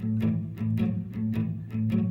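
A guitar strums a 12-bar blues rhythm with the quick change, jumping to the four chord in the second bar and back. About four even, evenly spaced chord hits ring out over a steady sustained tone, close and clear, with no talking.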